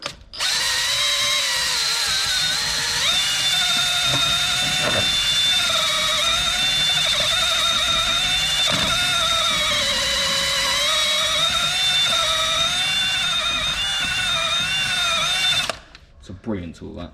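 A hub scrub tool spins on a power drill to clean a vehicle wheel hub, a sustained high-pitched whine with grinding that runs loud and close for about fifteen seconds, then cuts off abruptly.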